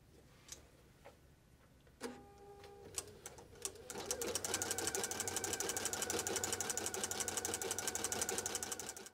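A domestic sewing machine working a blind hem stitch on fabric, a few separate clicks first, then a steady fast mechanical ticking hum that runs on evenly and close by.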